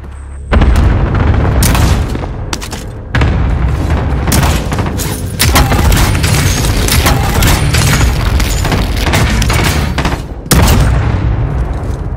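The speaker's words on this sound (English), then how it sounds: "Good copy. Cluster strike away." Cluster airstrike explosions in Warzone Plunder at a train station roll in as a dense, continuous barrage of loud booms and crackling blasts lasting several seconds, with brief gaps between waves.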